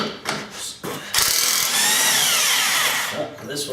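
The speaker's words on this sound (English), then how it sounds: "So we're going to try our impact first, see if that'll break it" A power impact wrench with a 24 mm socket runs in one sustained loud burst lasting about two seconds as it works a tight bolt loose on a loader casting, preceded by a few short clicks and handling knocks.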